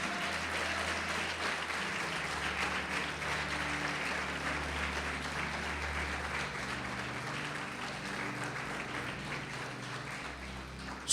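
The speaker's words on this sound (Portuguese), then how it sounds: "Você pode aplaudir o Senhor Jesus por isso?" A church congregation applauds during a sermon, the clapping a steady, dense wash that holds evenly for about eleven seconds over low sustained keyboard or organ tones.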